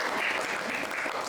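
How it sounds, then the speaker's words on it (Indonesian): A classroom audience claps briefly for a student presentation group at a university teaching session, a dense steady patter lasting about a second and a half with no talk over it. "tepuk tangan dulu untuk kelompok 1."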